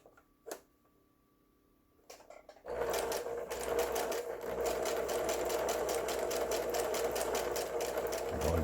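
A Singer household sewing machine runs a zigzag stitch after a few faint clicks, settling into a steady, fast, continuous mechanical whir with rapid rhythmic ticking, close and fairly loud, with no talk.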